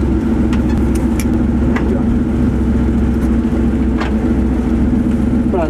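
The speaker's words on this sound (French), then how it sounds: "ça c'est une Porsche 911 Carrera Cup de 1992" A 1992 Porsche 911 Carrera Cup race car engine runs with a loud, steady, close rumble throughout, with no clear rise in revs.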